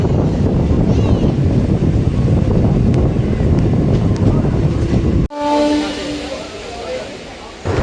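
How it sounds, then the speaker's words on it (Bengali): A Ranaghat–Gede local train pulls out of Mayurhat Halt station with a loud, steady rumble and wind buffeting, then cuts to a quieter interior with faint horn tones and ongoing track noise. "ময়ূরহাট হল্ট রেল স্টেশন থেকে আমাদের ট্রেন ডিপার্চার নিয়ে নিচ্ছে"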